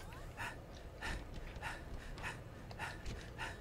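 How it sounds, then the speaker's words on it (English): Rhythmic panting from a character in Halo Reach, a quick breathy in-out pattern repeating about every half second, close and fairly faint, with no other sounds over it. "Panting is the most paranoia-inducing thing."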